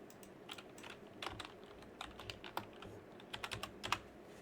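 Keys on a computer keyboard clatter as a file name is typed, quiet close clicks in short irregular bursts with brief pauses, no speech.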